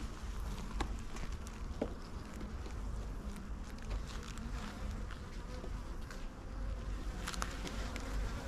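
Honey bees buzz steadily around an open beehive during an inspection, a continuous close hum of many insects with occasional louder passes near the microphone.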